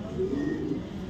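A red checker racing pigeon gives a single brief, low, throaty coo, close and soft, over faint background noise.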